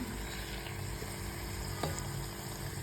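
Small puris frying and puffing in hot oil in a kadhai for a Holi meal, a steady close sizzle throughout with a faint clink near the end.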